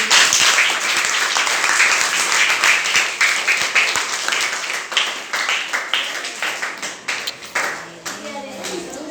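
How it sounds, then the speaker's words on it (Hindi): A class of students applauds in a math lesson, with quick dense clapping that thins into scattered individual claps near the end, and a voice speaking briefly at the close. "बजाइए ताली"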